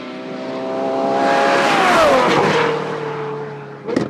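A Ferrari 812 Superfast V12 engine swells to a loud, high-pitched wail as it approaches, then drops in pitch and fades as it passes, with a brief burst of noise at the end.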